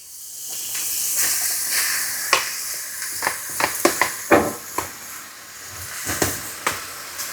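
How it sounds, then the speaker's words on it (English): Onions and garlic hit a hot pan for a hunter's stew, letting out a steady hiss and sizzle broken by sharp crackles and pops, close and fairly loud with no talking. "So, popping the onions in."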